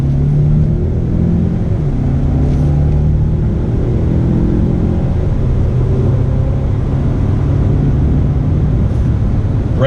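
A 2019 Mazda 6, a front-wheel-drive sedan, pulls under throttle with a steady low engine drone and road rumble that stays loud and even throughout, with no talk over it.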